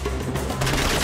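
Rapid gunfire bursts in the action video game Uncharted 4, a loud continuous volley with booming low end filling the whole second, no talking over it.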